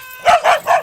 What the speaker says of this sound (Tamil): நம்ம நாய் இன்னைக்கு இப்படி குலைக்குது